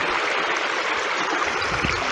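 Crowden Brook, a moorland stream in the Peak District, rushes steadily and close by, a continuous broadband hiss of flowing water with no pauses.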